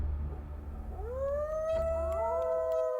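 A long, rising howl joins a low droning rumble about a second in, then holds a steady wavering pitch with a second voice layered above, like wolves howling in the distance over dark ambient noise.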